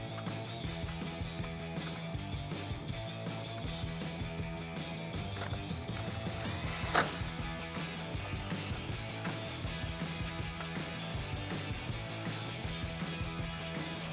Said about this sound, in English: attaching your factory bolts and with your 10mm socket, tightening them down